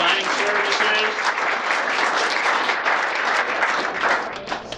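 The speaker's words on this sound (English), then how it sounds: "We'd like to give you a round of applause." A crowd at a campus opening claps in sustained, dense applause, loud and close, with faint voices mixed underneath before it tapers off at the end.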